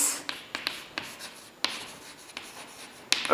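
Pen scratching across paper in short strokes, soft rubbing with small taps as words and figures are written, close and quiet with no talking.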